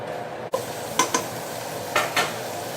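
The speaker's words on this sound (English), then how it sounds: "I'm going to go ahead and I'm going to throw in my ham" Ham cooks over high heat in a pot with a steady sizzle, broken by a few brief clinks and scrapes of stirring against the pot, close and moderately loud.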